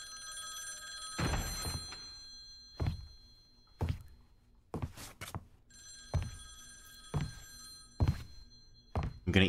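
Telephone ringing in Devil May Cry 3: a ringing phone sounds in repeated bursts with short gaps, interspersed with hollow thunks, fairly close and clear with no talk over it.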